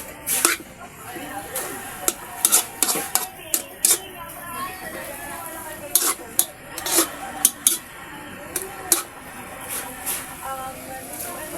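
A spatula scrapes and clacks against a pan while stirring adobong kangkong with tofu and oyster sauce, giving irregular sharp scraping strokes in bursts over a soft sizzle, with a person talking between them.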